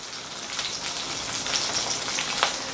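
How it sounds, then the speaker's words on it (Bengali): Diced capsicum sizzles in a pan with fried ginger and garlic while an egg chilli is being cooked, giving a steady loud hiss of frying that crackles close by throughout and has no speech over it. "এবারে এর মধ্যে দিয়ে দিচ্ছি ডাইস করে কাটা ক্যাপসিকাম"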